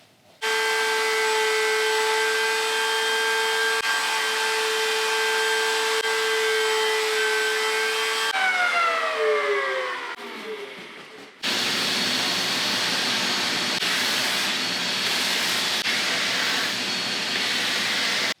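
Bearing-guided router bit trims the edge of a wooden charcuterie board with plastic beneath, a loud steady high whine with strong tonal harmonics that sweeps downward as the motor spools down, then dense harsh cutting noise.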